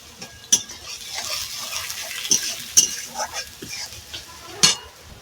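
Wet chili powder and turmeric paste hits hot oil in a pan over a clay stove, giving a steady sizzle with sharp clinks and scrapes of a stirring spoon against the pot.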